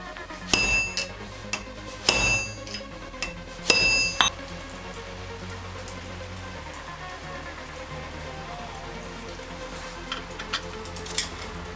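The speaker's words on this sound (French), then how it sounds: "taper dessus avec le marteau pour venir bloquer et ensuite ça pourra plus bouger" A hammer taps standard 8.8-grade bolts to lock them on a Suzuki Jimny JB43 rear bearing setup: three short metallic ringing strikes close by, then a long quiet stretch.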